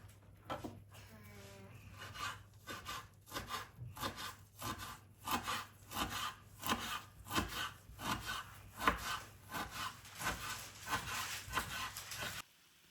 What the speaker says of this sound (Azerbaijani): Yarpaqları bu formada qatlayıb doğrayıram.